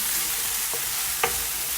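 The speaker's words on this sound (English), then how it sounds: "Okay, just saute this for about 1 minute." Green seasoning sautéing in a little oil in a clean pot while cooking oxtails, a steady hiss of frying with a couple of faint spoon taps, no voices.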